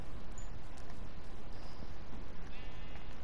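A llama in the Minecraft video game gives short, thin bleating cries over a steady hiss of game background noise.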